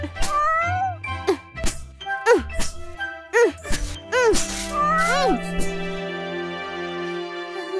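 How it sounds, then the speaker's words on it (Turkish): A cartoon cat from the Nussa and Rarra animated series meows repeatedly in rising and falling cries, loud and close, with light jingling tones around the calls. "Güzel kedi."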